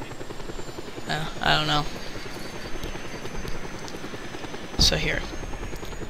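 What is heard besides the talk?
helicopter flying in video game Just Cause 2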